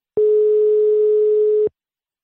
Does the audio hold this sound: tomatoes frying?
no